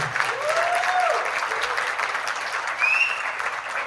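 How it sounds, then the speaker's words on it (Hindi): An audience at a live music show in Arizona gives the performers a steady, dense round of applause that holds at an even level throughout, with faint whistles cutting through. "तो एक बार जोरदार तालियां फनकारों और आपकी ज्यादा नवाजी के लिए।"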